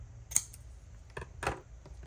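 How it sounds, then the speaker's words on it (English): Scissors give a few faint, quick snips while cutting lace for a craft tag, close by in an otherwise quiet room. "I think I'm just gonna cut this off."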